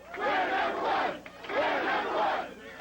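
Nearly 2,000 die-hard St. Louis Cardinals football fans cheer at the airport, welcoming the team home; two swelling waves of loud, whooping crowd voices rise and fall, with no single voice standing out.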